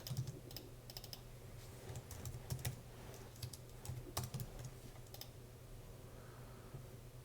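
Someone types on a computer keyboard while working on a C++ game engine, sounding as irregular bursts of clicky keystrokes, close and fairly quiet over a low steady hum, tapering off near the end.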